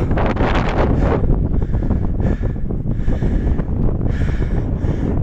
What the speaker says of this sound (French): Par contre le vent, wouh,